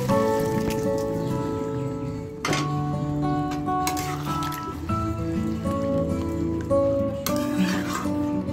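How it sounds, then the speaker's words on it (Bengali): Water from boiled meat is poured into a cooking pot, giving a continuous splashing, sizzling sound with clinks of utensils at a few points throughout. "এখন আমি সেদ্ধ করা যে মাংস সেদ্ধ করা জলটা ছিল সেটা আমি দিয়ে"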